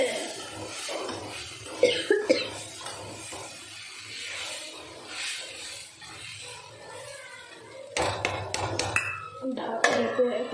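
A lid clatters down onto a metal cooking pot of spicy chili-laden food on a low stove flame, with scattered pot and utensil clinks, a louder burst of metallic knocks near the end, and faint voices in the background.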